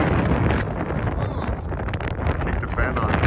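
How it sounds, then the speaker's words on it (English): Strong gusting wind buffets the microphone at a World Series Team Roping event during a tornado warning, a loud, rough, continuous rumble with muffled voices mixed in. "It's windy today."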